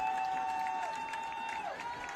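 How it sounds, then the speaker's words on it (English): A college football stadium crowd in a steady, distant roar of cheering and clapping with a faint whistle-like tone running over it. "Sidelines trying to urge this crowd to make a little noise."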